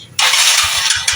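A Yamaha Mio Sporty motorcycle with a carburetor being tuned starts and runs close by, a sudden loud burst of engine noise that holds steady with small revving pulses.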